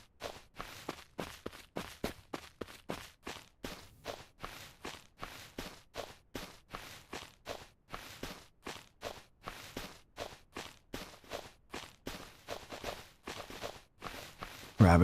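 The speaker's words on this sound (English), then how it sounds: "what the fuck are these footsteps I'm hearing?" Rapid, steady footsteps of rabbits hopping nearby in the zombie survival game SurrounDead, a continuous patter of soft thumps running the whole stretch with a louder burst at the very end.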